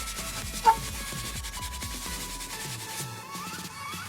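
Rust is scrubbed off metal car bodywork in quick back-and-forth rubbing strokes, a close rhythmic scraping that carries on steadily with one brief sharp squeak early on.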